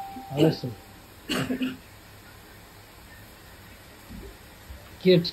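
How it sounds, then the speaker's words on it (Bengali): A person coughs and clears their throat nearby, in three short, harsh bursts spread across a few quiet seconds, with no talking between them. "কাশি লাগছে"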